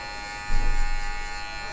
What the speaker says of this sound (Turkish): Yine bir numara tarağa takıyorum makine tarağını.